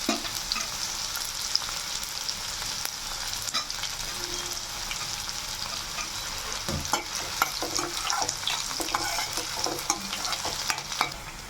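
Onion and green chili fry in hot oil for a tempering for baingan bharta, a steady hiss with light stirring scrapes and small clinks scattered through, close by and with no talking.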